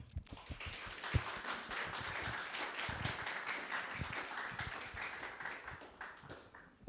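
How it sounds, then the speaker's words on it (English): A church crowd at a Day of Peace gathering gives a warm round of applause for a pastor, a soft, continuous patter of many hands heard from a distance, steady throughout. "please give a warm round of applause to Pastor Eric Silty"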